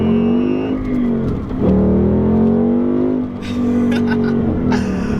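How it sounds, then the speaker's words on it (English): A 2018 Ford Mustang GT with 3.73 gears roars steadily and loud in a roll-on acceleration, revving up through the gears with a brief dip in pitch before climbing again. "We're gonna go ahead and do a little roll on to this Mustang."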